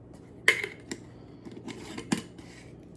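A spoon clinks against a bowl while stirring a garlic and parsley biscuit topping: a few quiet, sparse metallic taps and scrapes, close by.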